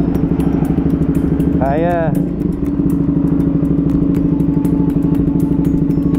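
A Husqvarna Svartpilen 200 motorcycle labours uphill on a rocky road toward Mt Kalugong in La Trinidad, Benguet, its engine droning loud and close with rapid rhythmic pulsing, while a person speaks briefly over it.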